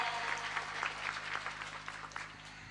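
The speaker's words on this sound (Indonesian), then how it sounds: "saya minta tepuk tangan dulu dong" An audience at a neighbourhood religious gathering applauds, a fairly faint but steady patter of many hands clapping over a low background hum.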